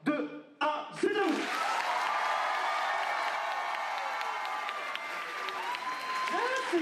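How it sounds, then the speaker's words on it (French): A crowd claps and cheers to drive an applause meter for a game entry at a game-awards style event, with loud sustained applause and whoops after a few opening shouts. "on va lancer le premier applaudimètre de cette catégorie"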